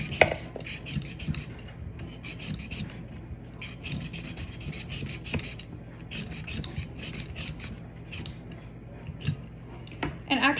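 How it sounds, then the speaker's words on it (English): Potatoes being peeled give rhythmic, close scraping strokes, each a short rasp repeated steadily at a soft level with faint clicks and handling noises between them. "Now let's get to peeling our potatoes."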